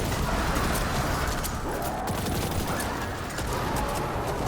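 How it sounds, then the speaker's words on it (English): Witherhoard grenade launcher shots in the Destiny 2 video game, heard amid a dense, loud wash of game combat noise and muffled impacts that stays steady throughout. "Place a Witherhoard shot there."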